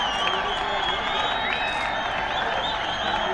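A packed cricket stadium crowd roars and cheers after a wicket falls in a Nepal versus Qatar match, a sustained, loud wash of voices with whistles and whoops rising over it.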